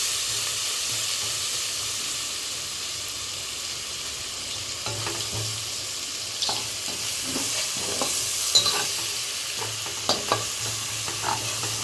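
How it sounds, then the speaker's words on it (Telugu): A paste of ground green chili, ginger and cumin fries in a pan, making a continuous soft hissing sizzle throughout, with occasional light stirring scrapes and taps in the second half and no talk. "ఇది వేపుదాం మనం పచ్చివాసన పోయేలాగా"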